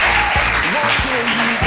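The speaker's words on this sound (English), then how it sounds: "Clap now." An audience at a talent event applauds a participant from a veterinary medicine faculty. Dense, steady clapping fills the whole stretch while voices carry on loudly over it.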